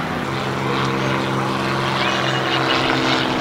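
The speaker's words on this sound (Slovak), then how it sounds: "Stále vidíte, že nemecké lietadlá nalietajú." Propeller-driven German military aircraft from the Slovak National Uprising era drone steadily overhead, a loud, continuous engine hum with steady low tones throughout, no speech.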